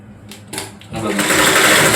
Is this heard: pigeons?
no